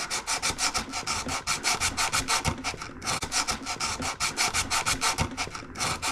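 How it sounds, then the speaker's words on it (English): Hand sanding a part with 80 grit sandpaper while working on a 1970 Wildcat heater blower actuator: rapid, even back-and-forth rasping strokes, close and loud, with one brief pause. "I just want to sand this down just a little bit"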